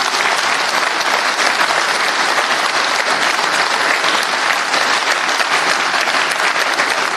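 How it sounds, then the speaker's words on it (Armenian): Sustained, loud applause from a crowd at a political gathering honoring Susanna Mkrtchyan, steady dense clapping filling the whole stretch with no pauses. "խնդրում եմ ծափահարություններ իրեն"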